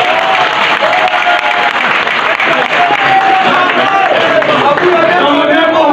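A hall crowd gives sustained applause in honour of Dr. Etienne Ilongo at a UDPS political gathering, dense continuous clapping mixed with crowd murmur and faint voices throughout.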